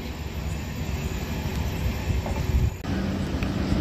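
The Hampi Express rolls through Munirabad railway station, a loud, close rumble of wheels and coaches with rhythmic rail clatter that shifts abruptly near the end as the cars pass, no voices.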